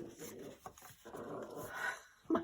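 Pet dogs indoors growl and pant, low rumbling grumbles and breathy huffs close by, with a sharper yip at the end.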